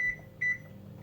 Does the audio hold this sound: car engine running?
no